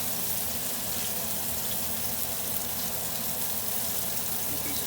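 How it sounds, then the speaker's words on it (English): Steady, hissing sizzle of fish frying in a hot pan, a continuous crackling spatter at an even level with no pauses. "You should hear this nice sizzle."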